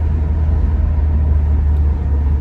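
Inside a manual 2018 Subaru WRX, the engine and turbo build under acceleration from about 2200 RPM, giving a steady, loud low rumble that hums without break.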